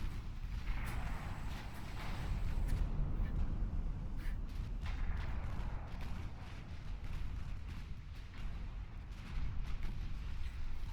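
Warship main guns fire in the naval battle game Ultimate Admiral Dreadnoughts, a low, rolling rumble of heavy booms and distant impacts overlapping continuously at a faint level.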